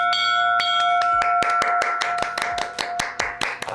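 A bell rung by pulling its rope sounds out in a quick series of about a dozen bright, ringing strikes, close and loud, each tone overlapping the last.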